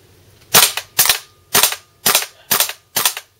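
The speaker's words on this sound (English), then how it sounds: "See that second shot? It goes pop, pop, pop, pop." Six sharp gas blowback shots from a WE G39C airsoft rifle pop close and loud at even intervals, each with a quick double-crack from the bolt cycling, with no talk.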